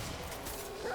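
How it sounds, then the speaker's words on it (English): A dog in the video game Remnant: From the Ashes gives a quick yip and whimper, heard up close over dense, noisy game ambience in a burst under a second long. "Oh, and yes, you can pet the dog."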